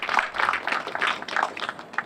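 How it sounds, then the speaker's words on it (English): Audience applause for the architects, builders and engineers at an outdoor press conference for a public square renovation, a steady patter of many hands clapping with slight swells, moderately loud and with no talk over it. "Please give them a round of applause for all the work that they did"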